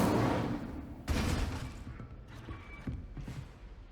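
Incendio fire spell cast in Hogwarts Legacy, a sudden whooshing burst of flame that fades, followed by a second softer flare and crackling, close and moderately loud.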